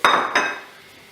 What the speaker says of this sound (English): now we're going to mix the butter through